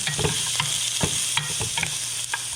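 Diced mirepoix vegetables seasoned with salt and pepper sizzle steadily in a hot pan for braised short ribs, a constant close frying hiss broken by a few soft stirring scrapes, with no talking.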